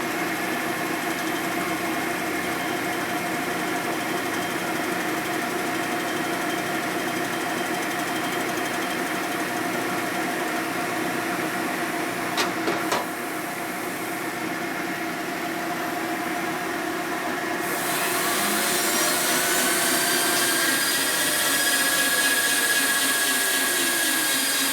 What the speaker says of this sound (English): So you can see how we cut metal here. We're just barely skimming it here.